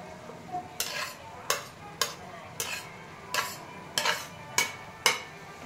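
Mushrooms being stirred into a simmering onion-tomato curry in a pan, with about nine separate scraping stirs of the spoon at a steady, unhurried pace over a faint sizzle.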